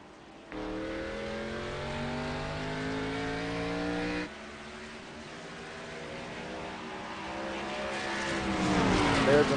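A race car in a NASCAR-style series at Pocono Raceway roars away from a pit stop, its engine note climbing through rising harmonic sweeps, dropping into a new gear, then building again toward a louder, rougher finish, near and dominant throughout.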